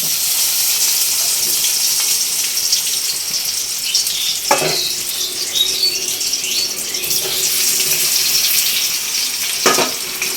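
Turmeric-coated raw mango pieces fry in hot oil with dried red chilli, five-spice and bay leaf, giving a steady close sizzle with a few sharper clatters of stirring.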